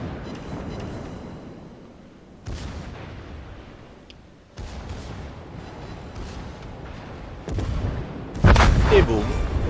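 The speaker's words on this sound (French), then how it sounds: "Boum, une torpille au but." Torpedo strikes on a ship in World of Warships, heavy booming explosions bursting out in several separate hits, the loudest near the end, over constant rumbling battle noise.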